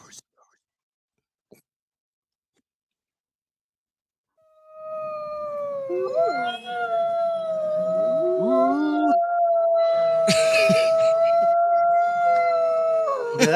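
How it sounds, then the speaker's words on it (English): A wolf howls in one long, steady, wavering tone after a few seconds of near silence, rising then holding a sustained pitch with faint secondary voices layered around it. "that's the wolf's howl"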